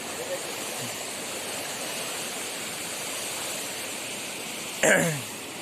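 A small river near the Sawang dam, with mountains and fog in view, flows in a steady, close broadband rush with no break, and one brief louder splash or knock comes near the end.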